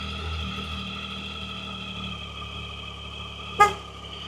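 A single short motorcycle horn toot sounds near the end, sharp and close, over the steady hum of the bike idling after being started.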